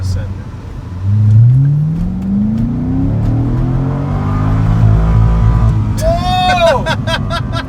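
A C6 Corvette Grand Sport with a stock LS3 V8 accelerates hard from inside the car, its engine note climbing steadily in a loud rising roar before a shift, with excited voices near the end.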